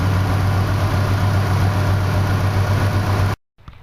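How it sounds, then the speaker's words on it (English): A 1970 Dodge Charger engine fitted with FiTech GoEFI fuel injection idles with a loud, steady low rumble close by, then cuts off abruptly near the end, leaving faint rattling. "Seems to idle pretty decent, but it won't idle slow enough."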